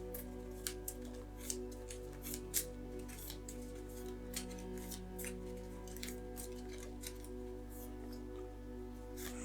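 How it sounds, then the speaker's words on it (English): Rapid papery riffling and soft snapping of cards being shuffled for the Slay the Spire board game, in quick irregular bursts, close by over a steady low hum. "Shuffle these back up."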